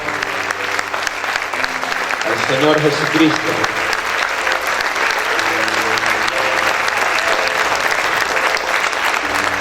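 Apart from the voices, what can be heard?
church congregation applause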